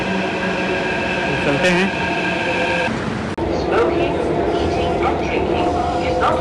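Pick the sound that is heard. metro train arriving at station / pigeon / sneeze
metro train arriving at station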